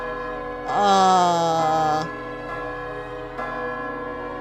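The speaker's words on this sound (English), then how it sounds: "That bell, you can hear it too, right, Leberta?" A large bell rings in the video game Brown Dust 2: one loud, clear toll with a long, shimmering ring that slowly fades, then a softer second toll a moment later. No speech is heard.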